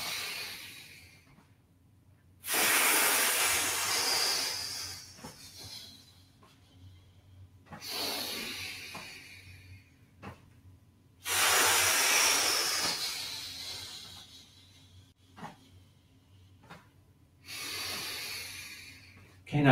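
Slow, deep breathing during a shiatsu session: long airy inhales and exhales alternate in roughly two-to-three-second waves with quiet pauses between, close to the microphone.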